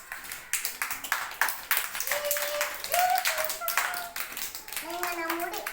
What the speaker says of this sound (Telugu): క్లాప్స్ కొట్టాలి మిగతా వాళ్ళు